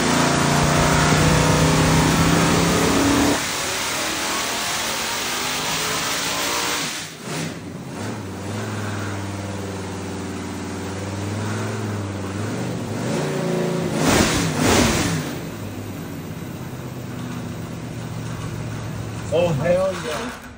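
A 408 small-block Chevy fitted with a dimpled intake spacer roars on a dyno, holding a loud, steady high rev before dropping to a rougher, lower run that swells again, with voices faintly mixed in.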